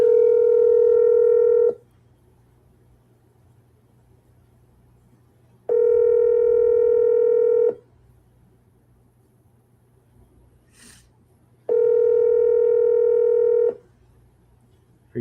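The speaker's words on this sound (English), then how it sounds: "I'm gonna give him a call real quick." Outgoing phone call ringback: three steady two-second tone bursts spaced about four seconds apart, clear and fairly loud, with a quiet line hum between them and no talking.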